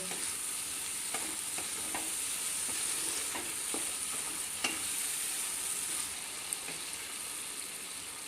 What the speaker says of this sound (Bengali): টমেটোটা দিয়েও কিন্তু আমি কিছুক্ষণ কষিয়ে নেব